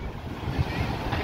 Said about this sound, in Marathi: पावसाच्या लाटा एकदम जोरदार